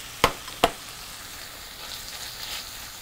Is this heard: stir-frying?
yes